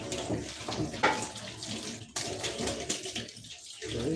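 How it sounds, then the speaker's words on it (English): Tap water runs steadily over a kitchen filter as it is rinsed, a broad continuous splashing rush with slight shifts in flow, close by and with no talking. "So we rinse our filter."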